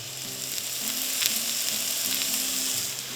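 Sandhill crane breasts with a peppercorn crust sear in a hot pan after being flipped, giving a steady, loud frying sizzle with faint scraping underneath.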